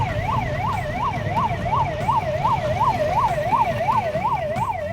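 An Indian 108 ambulance siren wails in a fast, even up-and-down warble, loud and continuous with no talking.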